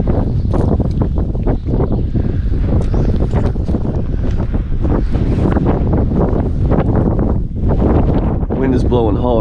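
Strong wind gusts buffet the microphone at a rocky reservoir during a bass fishing outing, loud and continuous with rough rumbling bursts and a brief voice near the end.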